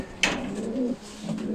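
Pigeons in a loft coo during evening feeding, a short low rolling call nearby after a brief knock, with quiet rustling in the background.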